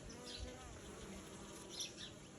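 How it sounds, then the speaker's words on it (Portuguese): Many bees busy at a hive entrance on a rural farm, carrying in pollen, make a dense continuous buzz with passing insects flying close by the microphone, faint and steady. "Muita abelha trabalhando, produzindo bastante mel"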